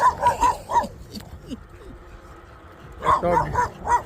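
Dog in rural Thailand barking in quick bursts of several sharp yaps, close and loud, with a quieter pause between the two volleys.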